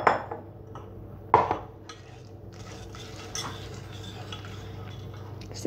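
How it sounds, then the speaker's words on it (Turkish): Hot milk pudding with milk jam stirred in a pot, a couple of sharp utensil clinks against the pot at the start followed by soft, steady scraping and swirling close by. "Ve karıştırıyorum."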